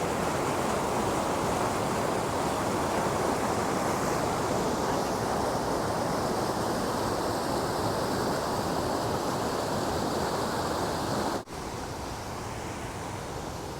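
Mountain waterfall on Hunters Creek in Rocky Mountain National Park, a steady broad roar of falling water close by that runs unbroken, with a brief dip near the end.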